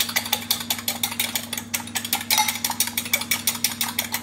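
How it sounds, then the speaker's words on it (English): Fast, steady whisking of eggs in a bowl for breakfast cooking, a rapid run of bright clicking strokes, close and fairly loud, with a faint constant hum underneath. "There you are, and we just whisk. We just want the air in the egg."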